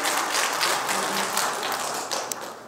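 An audience applauds an adviser at a military commissioning ceremony, a dense, continuous patter of many hands clapping that stays steady and fairly loud throughout, with no talk over it.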